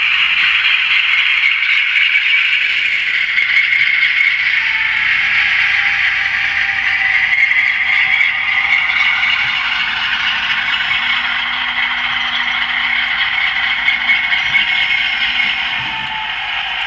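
Railcars shoved forward four car lengths by locomotive 1980 toward a hopper car inside a facility, a steady loud rattling and clattering of wheels and couplers with scraping metal throughout, a deeper rumble coming in partway.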